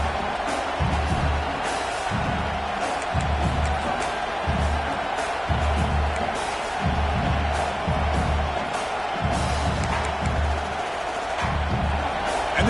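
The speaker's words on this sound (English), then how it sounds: "this crowd coming to life here, trying to help the defense get a stop with the offense pinned back" A football stadium crowd cheers and roars to urge on the defense, its loud, swelling noise carrying on steadily with rhythmic bursts of low stomping or chanting underneath.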